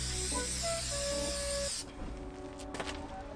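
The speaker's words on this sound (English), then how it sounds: "spray the fabric with your adhesive, careful to make sure you're evenly coating all of the edges" Adhesive spray hisses steadily from an aerosol can onto fabric for a window cover, a loud continuous burst of about two seconds that cuts off, followed by softer handling noises.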